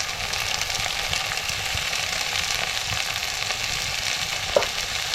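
Brinjal pieces sautéing with homemade red masala, turmeric and garam masala in a hot pan, giving a steady, close sizzle and fry hiss with light stirring scrapes and one brief clink near the end.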